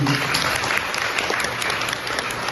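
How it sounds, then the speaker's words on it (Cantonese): A group of classmates at a gathering breaks into brief, dense applause, a steady wash of many hands clapping close by with no speech over it. "我覺得要俾掌聲兄弟姊妹啦。"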